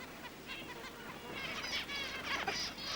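Zebra finch calls, an Australian grassfinch: a run of thin, repeated chirps and tweets at moderate distance, growing busier and more overlapping in the second half against a soft background hiss.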